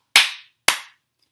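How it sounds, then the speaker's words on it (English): Two sharp hand claps ring out about half a second apart, crisp and close, each with a short decaying tail, in an otherwise quiet room. "Now can you clap twice?"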